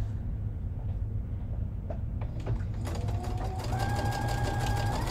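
A sewing machine runs steadily, stitching a seam on a strawberry costume piece without back stitching, its motor hum rising in pitch as it speeds up partway through.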